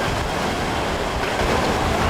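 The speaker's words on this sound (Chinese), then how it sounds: "台北市午后突然刮起狂风，下大雨" Strong gusting wind and heavy rain sweep a Taipei street in a brief, dense, unbroken roar of rushing air and pouring water, loud and close throughout.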